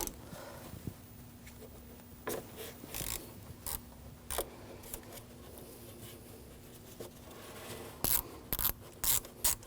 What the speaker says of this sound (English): Using a 10mm socket, I'm going to take this bolt out.